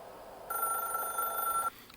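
A telephone rings in the video game The Stanley Parable, one steady electronic bell tone that starts abruptly, holds for just over a second, and cuts off cleanly, moderately loud against a quiet background.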